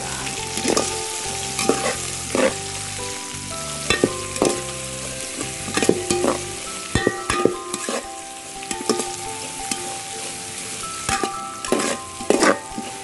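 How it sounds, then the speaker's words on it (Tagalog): Onions and green and red chilies sizzle while being stirred in a pan for Filipino chicken tinola, with steady frying hiss and repeated scraping strokes of a utensil against the pan, no talk. "haluluin din natin"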